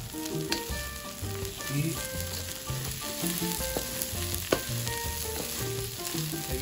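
Sofrito for a seafood caldero sizzling in a pan, a steady hiss of frying that runs for several seconds.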